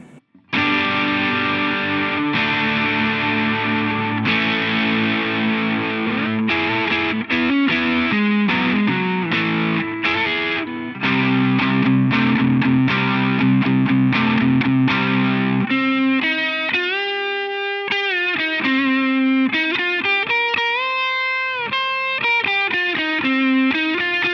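Overdriven electric guitar with humbuckers through an MXR Custom Badass Modified O.D. pedal plays loud, gritty chords and riffs, then shifts to sustained, bending lead notes with a thick, saturated tone.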